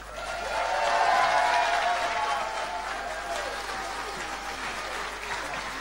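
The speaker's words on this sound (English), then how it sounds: "Another round of applause, please." Sustained audience applause at a live concert event, swelling early and then settling into steady clapping with cheers and voices mixed in.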